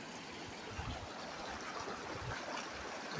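Spread Creek in the Grand Tetons flows in a soft, steady wash of moving water, faint and distant, with no voices over it.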